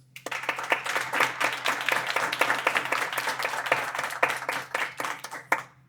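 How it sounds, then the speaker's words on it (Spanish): Audience applause at a panel session of an intellectual property forum, a dense crowd of clapping hands sustained for about six seconds at steady volume before stopping abruptly. "Un fuerte aplauso para ellos."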